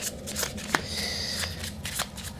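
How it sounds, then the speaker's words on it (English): A deck of cards is shuffled for a board game, giving several quick riffling bursts and crisp slaps at a close, even pace, with no talk over them. "then reshuffle the corruption deck"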